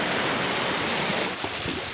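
Flood water rushing steadily and loudly over a half-broken road, a dense continuous roar with wind buffeting the microphone, no talk.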